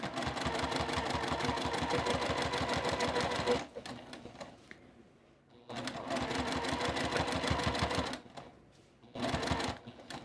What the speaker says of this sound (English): I'll just carry on sewing my binding on